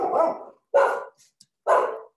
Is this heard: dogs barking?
yes